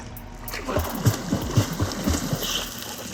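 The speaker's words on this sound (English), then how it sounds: "you're going to have your face in the water, bubble in mouth, and start kicking with your arms in front." Repeated water splashes from a swimmer doing flutter kicks face-down in a pool, arms held out in front, giving a steady churning rhythm of close splatters for a few seconds.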